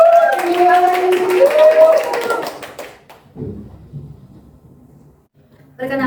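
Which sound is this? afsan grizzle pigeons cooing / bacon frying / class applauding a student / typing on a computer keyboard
class applauding a student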